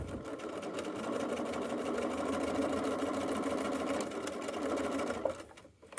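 A sewing machine runs steadily for about five seconds, sewing reinforcement stitches over already-stitched fanny pack webbing, with a close mechanical whir that slows and stops near the end.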